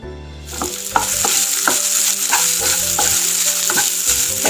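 Urad dal and grated coconut fry in a hot pan for a Palakkad-style raw jackfruit dish. A loud, steady sizzle runs throughout, punctuated by regular scraping stir strokes, close up with no voices.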